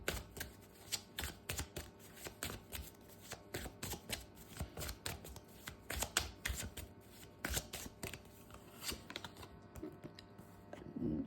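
A deck of tarot cards being shuffled by hand, a rapid run of crisp, papery riffles and flicks close up that repeat unevenly throughout, with no talking.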